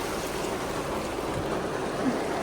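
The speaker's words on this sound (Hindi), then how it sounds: "यहाँ इतनी तेज़ बारिश हो रही है" Heavy rain pouring steadily during a journey, a dense continuous hiss of falling water with no pauses, loud and close, with no talk over it.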